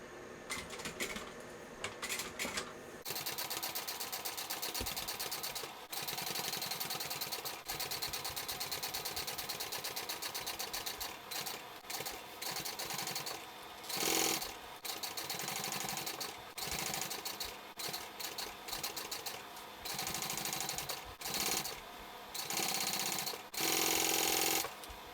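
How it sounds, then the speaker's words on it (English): A sewing machine top stitching a backpack runs in bursts of rapid mechanical clatter, starting and stopping repeatedly with short pauses between runs, close and fairly loud. "Now I'll do my second row of top stitching."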